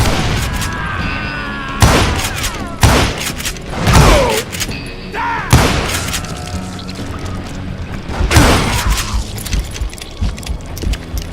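Gunfire crackles in the Western shooter Call of Juarez: Gunslinger, with repeated loud shots and booms in rapid bursts over busy game sound effects and a dense, close mix.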